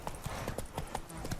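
In the video game Witcher 3, a horse gallops in a quick, uneven run of clip-clopping hooves heard up close for just over a second.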